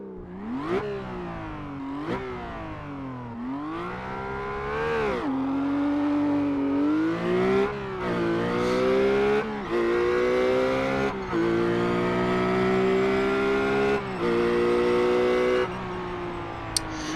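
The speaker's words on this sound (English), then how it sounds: "we got a bit of an exhaust note test now, so you can know the difference" A RUF race car in the iRacing simulator delivers a loud, continuous exhaust note that revs up in repeated climbing sweeps through gear changes, heard alone without talk.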